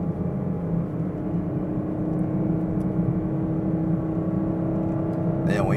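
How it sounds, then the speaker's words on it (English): Chevy Camaro SS on summer tires being driven, its V8 exhaust holding a steady, loud, low rumble from inside the cabin with no clear revving, and a brief higher burst at the very end. "Exhaust excellent."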